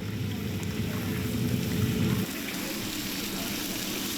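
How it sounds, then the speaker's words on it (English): Meat-stuffed tofu frying meat-side down in a hot pan, giving a steady dense sizzle with a low rumbling layer that drops away partway through while the crackle carries on. "Placing the side filled with meat downwards allows for quick frying."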